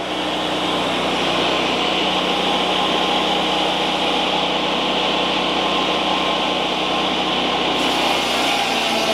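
A power saw cuts vertically through spruce bevel siding, producing a loud, steady whining rasp that holds for the whole stretch with no pauses or talking.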